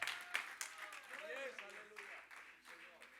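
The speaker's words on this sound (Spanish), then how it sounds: "por lo menos dale palmas pues" Church congregation clapping hands, loose and uneven, beneath a preacher's continuing speech; the claps come sharper at first, then blur into a softer patter.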